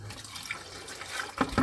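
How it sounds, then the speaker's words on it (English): Water poured carefully around the inside wall of a bucket of concrete premix, a short soft splashing trickle that builds toward the end. "all we do is we've got our water there. Now we tip it around the side"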